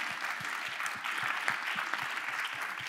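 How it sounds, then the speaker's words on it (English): Audience applause at an arts and health convening, a continuous patter of many hands clapping at a moderate, fairly distant level, with no talking over it. "So let's have a round of applause."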